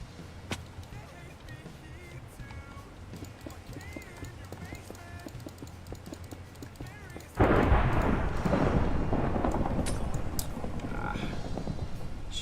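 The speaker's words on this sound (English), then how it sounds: "Seems to be rather stormy out." Stormy weather in Minecraft, with a steady patter of rain that jumps to a louder, denser downpour roar partway through, a quiet background click heard earlier.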